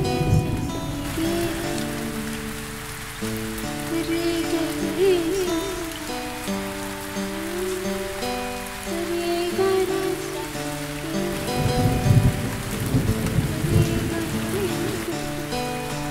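Steady rainfall of the season's first rain patters continuously on surfaces, mixed with soft sustained music throughout.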